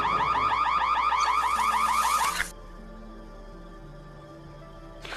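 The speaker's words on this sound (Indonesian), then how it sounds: "Lalu tiba-tiba terdengar suara alarm kebakaran di mana Feby lupa mematikan pemanggang" A fire alarm warbles rapidly and loudly for about two seconds, then cuts off abruptly, leaving quiet background hum.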